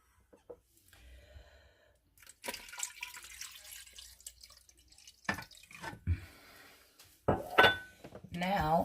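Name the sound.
pouring water into pot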